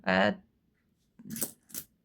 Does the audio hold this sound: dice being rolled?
yes